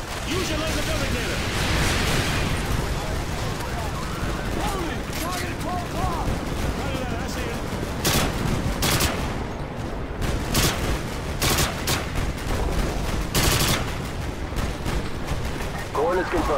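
Artillery barrage from Call of Duty Modern Warfare 2 pounding enemy vehicles, a dense roar of repeated heavy blasts and sharp bursts of gunfire over a battlefield din, with voices talking over it.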